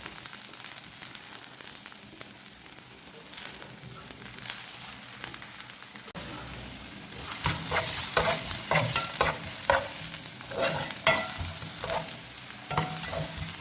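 Garlic and onion sizzle in a pan for mint chutney. A steady crackling fry runs close by, then a spoon or spatula scrapes and stirs in quick repeated strokes over the hiss.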